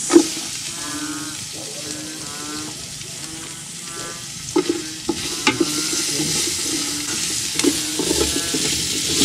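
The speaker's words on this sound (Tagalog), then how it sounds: "gisa na tayo ng luyang dilaw" Turmeric, garlic and onion sautéing in a pan, a steady loud sizzle with scattered scrapes of stirring, and a bleating-like animal or voice sound faintly heard nearby.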